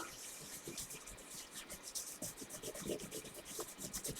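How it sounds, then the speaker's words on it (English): Pencil or crayon rubbing back and forth over paper laid across leaves, a steady scratchy swishing in repeated strokes, close and moderately quiet with no talk. "once I've done the rubbing for all of the leaves"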